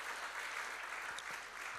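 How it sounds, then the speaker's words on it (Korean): Congregation applauding at an early-morning church prayer service, a quiet, steady wash of many hands clapping at a distance, continuous through the moment. "우리 박수로 크게 격려해 줍시다"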